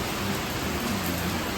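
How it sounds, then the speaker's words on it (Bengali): Steady, dense rain pours down at night while a low, soft thunder rumble rolls underneath it throughout, with no voices. "বাজ তো পড়ছেই না, মেঘ ডাকছে।"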